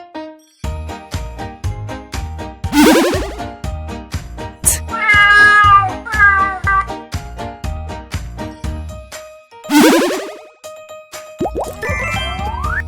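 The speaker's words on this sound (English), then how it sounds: "Cat." A cat gives a clear, drawn-out meow at close range, surrounded by upbeat cartoon music with jingles and boing effects.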